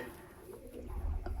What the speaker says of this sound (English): I'm looking at my birds, and I hope you won't hear them. They're so loud, especially in the morning.